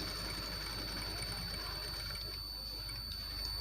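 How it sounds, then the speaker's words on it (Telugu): A sewing machine runs steadily as it stitches a designer blouse along marked lines, a continuous low mechanical whir with a faint high whine, at moderate level with no voices. "ఇక్కడ టర్నింగ్స్ దగ్గర నీడిల్ కిందకే ఉంచి దీన్ని మనము ఇలా పెట్టిన మార్క్ పై నుండే ఇలా స్టిచ్ చేసుకుంటూ రావాలండి"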